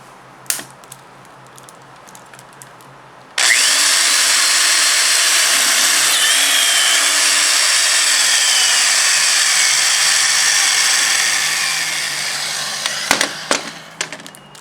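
A power drill bores holes into a metal windmill part, starting abruptly after faint clicks and holding a loud, steady whine for about nine seconds before winding down, followed by a few close handling clatters.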